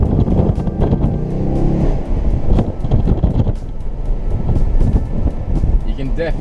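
Holden VF2 SSV Redline Commodore engine revving hard during track laps, heard from inside the cabin with the windows down. The loud, rising and falling engine drone is continuous, with voices faintly underneath.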